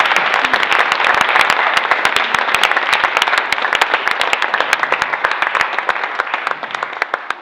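Dense applause from an audience greeting a music teacher, Miss Carol Chuang of the Pacific Institute of Music, at a speech event: many hands clapping steadily and loudly throughout, with no voices over it.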